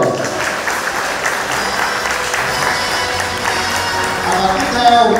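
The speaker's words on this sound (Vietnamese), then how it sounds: "một tràng pháo tay xin được chào đón anh Nguyễn Hoàng Cường." Sustained applause from a crowd fills the space, dense and even throughout, with a voice briefly audible near the end.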